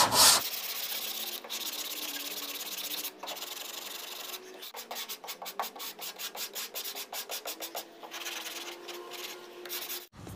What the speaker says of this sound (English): we're gonna go over it with 180 just to get it straightened out